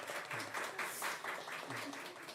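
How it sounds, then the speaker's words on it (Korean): A church congregation clapping during a worship service, a faint, steady round of applause with voices underneath. "우리 박수 한번 쳐줄까요?"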